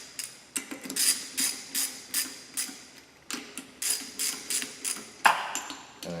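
A ratchet wrench snugs up the mounting bolts on a Barton Hybrid 3 hitch for a 2011–14 vehicle, giving a steady run of close, crisp clicking strokes with brief pauses between bursts.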